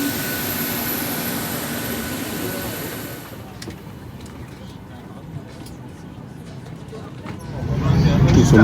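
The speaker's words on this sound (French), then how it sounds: "Nous sommes bien dans l'avion." Inside an airplane cabin, a steady broadband jet engine roar fills the space, easing to a softer hum midway and then swelling louder again near the end.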